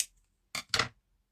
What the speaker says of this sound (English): I'm just going to cut a piece of this.